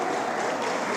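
A church congregation at a Foursquare service claps for the Lord, a dense, steady wash of many hands filling the whole short moment without a break.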